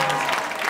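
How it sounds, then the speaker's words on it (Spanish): Applause from a concert audience at a live Latin pop show at House of Blues Orlando, a dense, steady wash of clapping filling the short stretch at even loudness. "Así que vamos a dar un fuerte aplauso."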